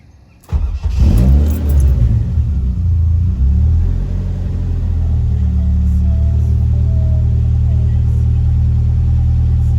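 Ford Fiesta Mk5 Zetec S with a Sigma engine cranks and catches abruptly, settling into a steady low idle rumble close by, with brief revs early on and talk in the background.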